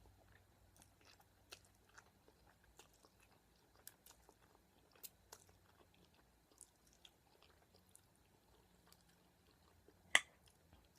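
Someone eats spicy noodles, chicken and boiled eggs up close, making soft, scattered chewing clicks and smacks. There is no talking, and one sharper crunch stands out near the end.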